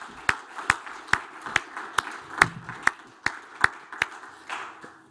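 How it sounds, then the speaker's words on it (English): Slow, evenly spaced single handclaps at a conference talk, about a dozen sharp claps roughly every half second, close and fairly loud with a faint background murmur, sounding like one person clapping. "Big round of applause for Stephen"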